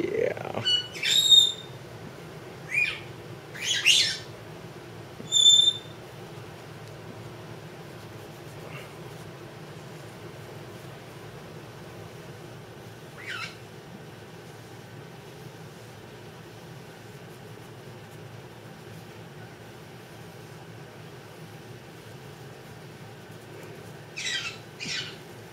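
A pet bird lets out several short, sharp squawks in the first few seconds, then calls again faintly later, with long quiet stretches of indoor room hum in between.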